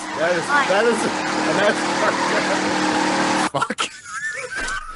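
A NASCAR race car engine revs and whines in rising, falling sweeps beneath steady conversation, then cuts off abruptly before a quieter stretch.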